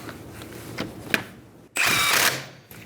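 A power tool spins lug nuts tight on a rear wheel of a 2010-2013 Kia Soul with a 21mm socket, giving one loud whirring burst of about half a second after quieter workshop clatter.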